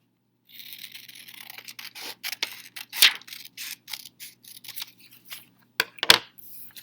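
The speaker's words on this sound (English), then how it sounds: "Going to now just use some scissors." Scissors snip through paper being cut into equal pieces for paper weaving, a series of close, crisp cuts and rustles with two sharper snips, quiet and without talk.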